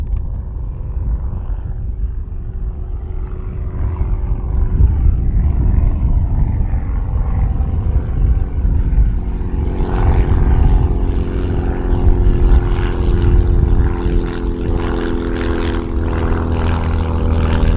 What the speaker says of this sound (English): Here's that aircraft again.